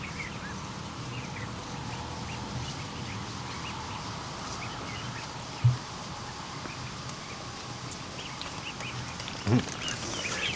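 Ducks quacking outdoors near a spot where duck and goose eggs are being hatched, with a steady ambient background and a couple of brief, louder calls standing out.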